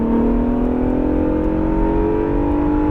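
An Acura NSX accelerating hard on a race track, its engine note climbing steadily in pitch as it revs up, loud and close with no talking over it.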